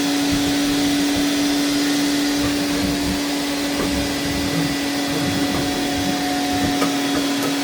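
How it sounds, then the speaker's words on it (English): A vacuum cleaner sucks lint and dust out of a dryer vent. It gives a loud, continuous whine with a steady tone and a rough airy hiss, running unbroken and close with no talking. "it should be vacuuming up most of the dust that I kicked all the way down to the bottom"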